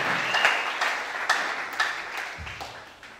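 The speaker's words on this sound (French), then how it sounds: "Acclamons quelqu'un pour lui." An audience in a church applauds, a steady patter of clapping that swells and then fades a little over a few seconds.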